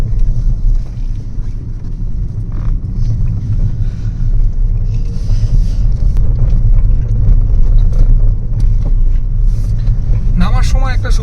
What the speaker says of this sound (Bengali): নামার সময় একটা সুবিধা আছে ইঞ্জিন ব্রেকিং এর